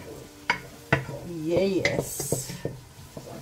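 Garlic and onions stirred in a pot on the stove, with several sharp utensil clacks against the pot over a soft sizzle, close and moderately loud, and a brief voice heard.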